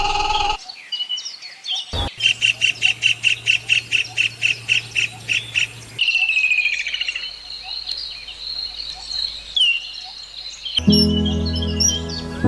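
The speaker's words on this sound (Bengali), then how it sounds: "তেলেঙ্গানা রাজ্যে এই ইন্ডিয়ান রোলার পাখিটি দেখা যায়" An Indian roller calls in a series of harsh, rhythmic squawking notes, then a long rasping churr and sharper chatter. Faint insect buzzing runs beneath, with another burst of loud calls at the end.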